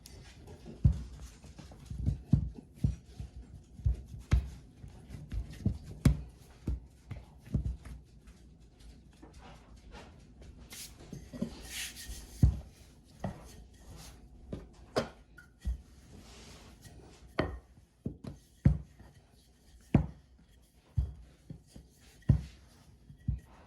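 Apple pie dough for the top crust being rolled out with a rolling pin: a quiet, irregular run of soft thumps and brief scraping strokes that repeat steadily, close by.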